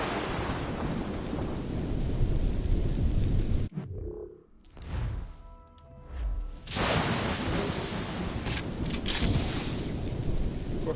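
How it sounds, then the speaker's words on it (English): Stormy weather in the Assassin's Creed Rogue video game: steady, loud rain hiss with thunder rumbles fills most of the span, broken by a brief quieter gap in the middle before the downpour returns at full strength. "The storm's getting worse."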